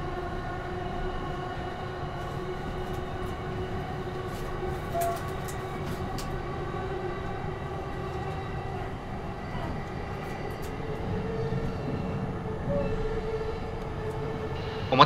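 Interior of a JR E231 series 1000-number local train on the Tokaido Line bound for Atami, with a steady rumbling run and wheel noise throughout at an even level, plus a few faint clicks and knocks.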